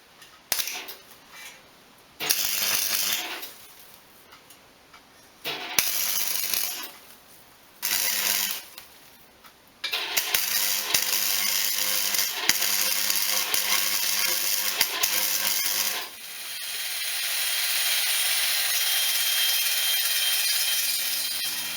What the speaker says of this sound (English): So once I actually got the welder set up right and changed the actual welder tip, it seems to be welding quite nice.